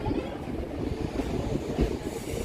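Low, steady rumble of a moving train from Howrah toward Kolkata station, with rhythmic rolling and rattling of wheels on track, heard from inside a carriage.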